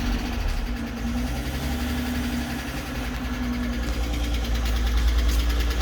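A Ford Falcon engine idles steadily and close by, with a low rumble and some tappet tapping audible, the car showing 156,000 on the clock. No voices are heard over it.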